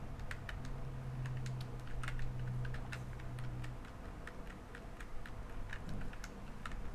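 Fingers typing on a computer keyboard, a quiet, steady patter of light key clicks with a few firmer taps, close and alone with no voices.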